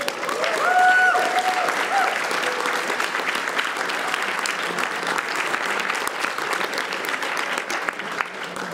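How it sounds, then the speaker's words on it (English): Sustained applause from a large audience at a live speedrun marathon event, a steady dense wash of clapping that holds for the whole stretch, with brief voices or tones near the start. "let's get one big last round of applause for the TASbot."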